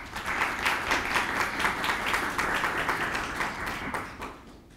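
A room full of people claps steadily to welcome a speaker at a panel discussion event, a warm even patter lasting several seconds before fading.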